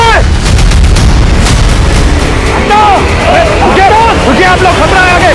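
Gunfire bursts in a crime drama scene, a run of sharp, loud shots and booms crowding the opening seconds, followed by excited shouting voices and crowd commotion over continuing noise.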